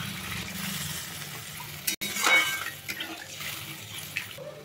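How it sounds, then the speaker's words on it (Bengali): Water splashes from a vessel into a pan of fish masala, a close, brief gush that settles into a softer trickle and sizzle. "জল দিয়ে দিলাম।"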